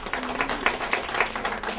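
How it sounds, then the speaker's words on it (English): Brief applause from the audience at a corporate awards media launch, a moderate, scattered round of clapping with distinct individual claps. "Let's give them a warm round of applause."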